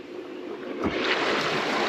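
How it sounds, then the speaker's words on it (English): A hot tub circulation pump starts up and water begins to flow, a soft rushing wash that swells after a brief surge and then holds at a steady, moderate level with nothing else heard. "Now we're going to run that pump."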